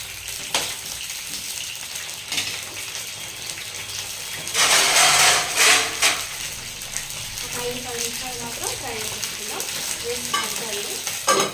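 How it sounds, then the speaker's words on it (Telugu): Cut brinjals fry in a little oil, a continuous sizzle with stirring scrapes that swell into a louder burst of crackling midway, then settle back to a steady fry. "నేను కర్రీలో వేయట్లే డైరెక్ట్ కొంచెం ఆయిల్ వేసేసుకొని ఫ్రై చేసుకుంటున్నాను"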